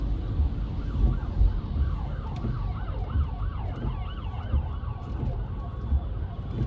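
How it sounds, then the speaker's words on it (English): A police car siren wails and warbles in repeated rising-falling cycles, moderately distant, over a low rumble of road traffic. "There's a police car."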